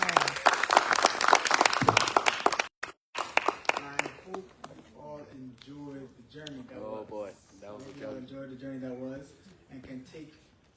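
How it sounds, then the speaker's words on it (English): An audience bursts into a loud, dense round of clapping that lasts a few seconds, breaks off abruptly, and gives way to a single person speaking at a lectern. "Can we get another round of applause?"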